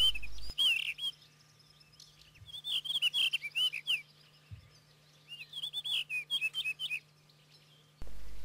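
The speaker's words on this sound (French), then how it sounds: "Le monticole bleu, appelé aussi merle bleu." A blue rock thrush sings among rocky outcrops, giving fluting, warbling phrases in several bursts at moderate distance, with a low steady hum beneath and no talking.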